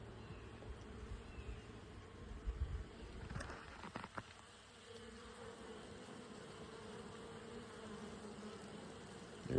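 Honey bees buzz faintly around hives in a sunny yard, drying down nectar, a soft continuous hum with a few closer passes, no talking.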